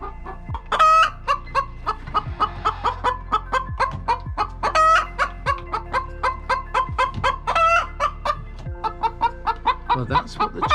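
Chickens in a greenhouse used as a chicken house on a farm in Uddeholm, Värmland, clucking and squawking in repeated bursts close by, with a rooster-like crow among the calls and no talking.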